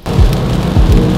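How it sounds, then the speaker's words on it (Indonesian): Heavy rain pours steadily and loudly close by, with a dense hiss and deep rumbling thumps under the downpour. "Tapi nampak gayanya hujan."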